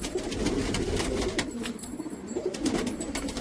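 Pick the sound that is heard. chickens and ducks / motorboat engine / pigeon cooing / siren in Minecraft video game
pigeon cooing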